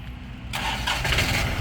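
A used Kubota or Yanmar tractor engine is started. It is quiet at first, then cranks and catches abruptly into a steady, close running rumble.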